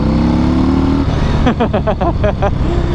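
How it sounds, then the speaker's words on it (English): A Harley-Davidson FXDR motorcycle engine idles with a low rumble, then gets a quick series of throttle blips, about six short revs in a row, loud and close. "A little twist of the throttle and you get power."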